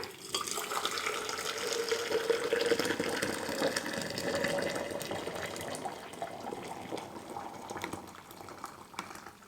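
Hot water pours steadily into a large container for about a litre of tea, a continuous close splashing fill with no talking.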